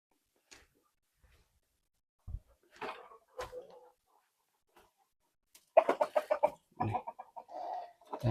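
A flock of H'mông breeding chickens clucks close by, scattered soft single clucks at first, then a busier run of rapid clucking calls from several birds, with quiet pauses between.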